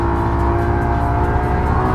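A Porsche 911 GT3 engine roars loud and sustained, a steady high-revving drone close at hand without any voices.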